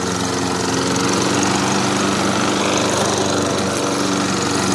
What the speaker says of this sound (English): So start the mower. Time for the gasoline.